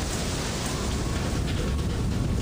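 Steady, dense hiss of heavy rain with a low rumble of thunder in the FAR: Lone Sails video game, unbroken and close throughout with no voices.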